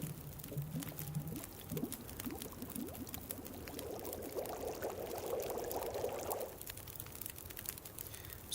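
Water boils in The Long Dark video game: a gurgling, pouring bubble rises gradually, grows louder through the middle, then cuts off fairly suddenly, leaving a quiet ambient bed.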